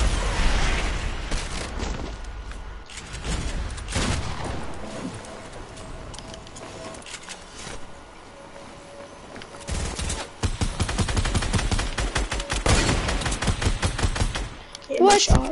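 Video game gunfire in rapid bursts and single shots, sharp cracks clustering in volleys amid footsteps and game noise, with players talking over parts of it.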